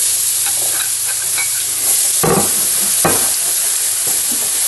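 Hot oil for gumbo sizzling loudly in a pot while being stirred, a continuous close hiss broken by a few sharper scraping strokes.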